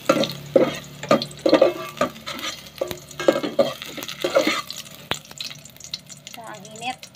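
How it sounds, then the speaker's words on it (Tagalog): Ginger fries and is stirred in a hot pan, with a soft sizzle under irregular scraping and clinking strokes that come in quick bursts, close up, with faint talk in the background. "Unahin ko na guys ang luya."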